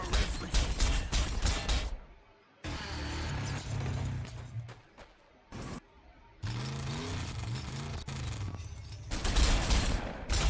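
Bursts of heavy gunfire and booming explosions in the Warhammer 40,000: Sanctus Reach video game, dense and loud, broken by short gaps and a low engine-like drone, with a voice shouting through the middle.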